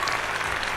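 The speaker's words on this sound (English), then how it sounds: "Want another applause?" An applause sound effect plays as a brief, dense burst of many hands clapping at a steady loudness.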